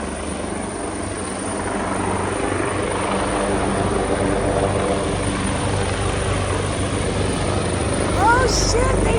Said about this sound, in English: Someone's gonna fly down there with a plane.